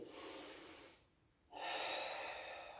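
Deep breathing during a Pilates exercise, a long audible exhale, a short quiet pause, then a strong breath in, close and soft with no talking.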